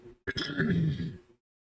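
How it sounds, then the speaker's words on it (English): A single rough throat clearing, a short harsh burst that rumbles into a gravelly cough-like grunt, close and fairly loud. "sorry for all this coughing"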